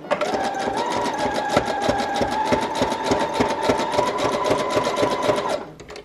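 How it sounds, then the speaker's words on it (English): Sewing machine running a zigzag stitch down the side of a paper envelope pocket in a boho journal, a steady close rapid mechanical chatter that holds for several seconds then stops. "you could use a sewing machine, which is how I'm going to finish it off"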